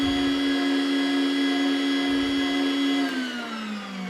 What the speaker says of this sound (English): Turn our mixer off.